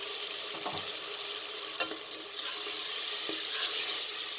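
Water poured into a pan of frying turnips and greens sets off a steady, hissing sizzle, with occasional clinks and stirring knocks over the continuous spitting noise.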